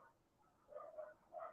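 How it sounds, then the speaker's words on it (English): Dogs fighting and barking outdoors not far from a house, heard as faint, distant yelps and barks in a few short bursts without any talk. "There's an intense dog fight"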